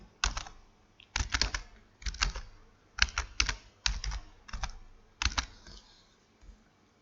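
Someone types instructions on a computer keyboard in close, clear bursts of rapid clicks, with short pauses between each run of keystrokes and no talking.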